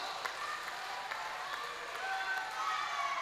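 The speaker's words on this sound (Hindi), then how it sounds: "एक बार दोनों हाथ उठाकर तालियों की गड़गड़ाहट से बताएं कि आप सुन रहे हैं कविता" A poetry recital audience claps, a steady patter of applause from many hands with scattered cheers mixed in, moderately loud and unbroken.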